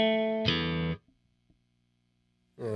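Electric guitar played through a Donner Verb reverb pedal with the effect level set low: a sustained chord rings out, then cuts off into a quiet, short reverb tail before another chord is struck.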